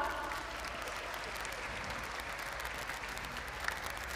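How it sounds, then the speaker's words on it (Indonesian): Crowd at a large outdoor Islamic religious gathering applauding, a distant, fairly faint continuous patter of many hands under a reverberant background. "Dan sekali lagi tepuk tangan buat kita semua"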